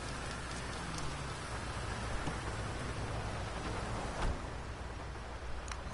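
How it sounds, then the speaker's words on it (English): Steady, dense rain pours down in a PS4 open-world driving game, a constant broadband hiss of drops on surfaces with a brief louder swell near the end and no talking. "This rain needs to go away."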